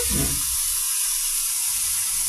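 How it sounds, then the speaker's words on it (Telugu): Ivy gourd (dondakaya) pieces deep frying in oil with curry leaves, a loud, steady, broad sizzle and hiss that runs without a break. "వీటితో ఇప్పుడు ఈ పీసెస్ ఈ విధంగా ఫ్రై అవుతున్నాయండి."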